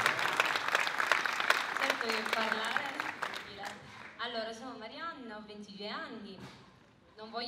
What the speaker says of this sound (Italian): A Marianna D'Angelo, un applauso di nuovo,